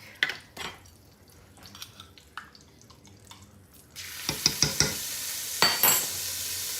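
Pepper flakes and a tablespoon of garlic hit a hot pan, bursting into a loud, steady sizzle after a few soft handling clicks, with sharp pops and stirring scrapes on top, close up and without talk.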